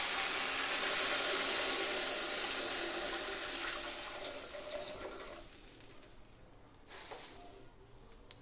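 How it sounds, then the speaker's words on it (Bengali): Water poured into a pan of spiced rui fish curry with beans, a steady close splashing rush that gradually fades and thins, ending with a few faint clinks. "এবার আমি জলটা দিয়ে দেব।"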